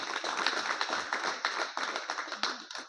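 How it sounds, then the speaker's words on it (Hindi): An audience at a saint's welcome gathering at an ashram in Badlapur bursts into loud, rapid applause, many hands clapping together in a dense, uneven patter that trails off at the end. "एक बार जोरदार ताली बजनी चाहिए दोस्तों"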